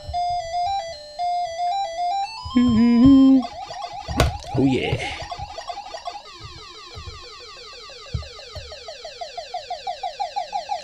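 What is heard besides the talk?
Pac-Man arcade video game sounds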